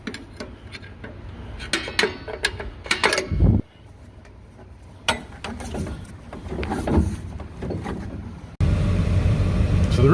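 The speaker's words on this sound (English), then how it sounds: "So going to get our tool in here and adjust these up." A hand tool works on the rear drum brake shoes of a truck, giving irregular metallic clicks and ratcheting ticks close by, with louder clunks and a rougher noise at the end.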